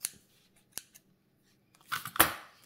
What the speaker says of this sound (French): Ce que je vais faire, c'est que je vais découper le logo.